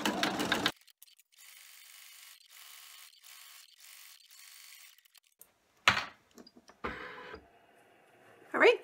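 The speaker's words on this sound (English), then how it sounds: "we need to take it back to the machine, and we're going to be running the triple bean stitch that is a little decorative stitch" Embroidery machine stitching a decorative triple bean stitch, a steady fast mechanical pulsing chatter running for several seconds, with talk before and after.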